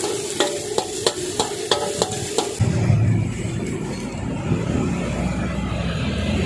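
Catfish larb stir-fried in a pan: about half a dozen sharp, regular spatula clacks, then a louder, steady sizzle and scraping roar. No one speaks.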